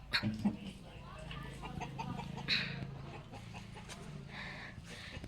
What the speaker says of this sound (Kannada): ಇಲ್ಲಿ ನೋಡಿ ಕೋಳಿ